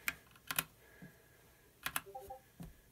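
Keystrokes on an Anne Pro 2 mechanical keyboard come through as a few scattered clusters of sharp, close clicks separated by pauses, with a faint background tone.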